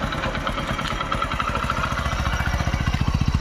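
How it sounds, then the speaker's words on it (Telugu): A 2015 Hero HF Deluxe motorcycle engine idles up close, a steady rapid single-cylinder putter that grows slightly louder and more pronounced toward the end, with no talking. "ఇంజన్ సౌండ్ చూడండి బాగా ఒకసారి"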